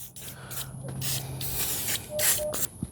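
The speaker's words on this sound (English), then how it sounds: "I'm gonna hit the whole thing with a decent amount of WD-40." WD-40 sprayed onto a chainsaw bar, several short hissing aerosol bursts close to the microphone with small clicks in between.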